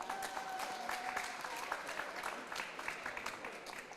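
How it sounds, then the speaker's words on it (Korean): An audience at a local ordinance competition at a policy convention applauds a Wonju city councillor, a dense, even patter of many hands, soft and distant throughout. "다시 한번 큰 박수 부탁드립니다"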